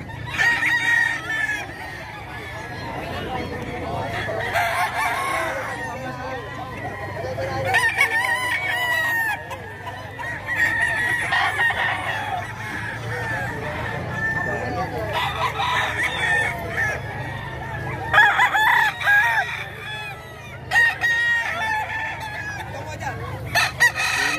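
Fighting cocks at Bocaue, Bulacan crow repeatedly, several birds close by overlapping with clucks and low background murmur throughout.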